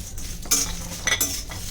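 Whole spices, nagkeshar and cloves among them, stirred in a little oil in a kadhai for a Malvani masala, with soft scraping and light rattling strokes, quiet and close, without talk.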